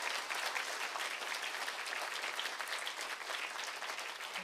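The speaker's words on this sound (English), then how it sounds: "Give yourself a round of applause." Crowd of about a hundred guests at a NASA Social event at Jet Propulsion Laboratory applauding, a steady, even patter of many hands, fairly soft and distant, with no talk over it.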